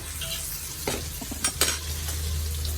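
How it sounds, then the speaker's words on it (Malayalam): Mustard seeds sputter and crackle in hot oil, with a few clinks of a spoon against the pan partway through. "കടുക് വറുത്തു"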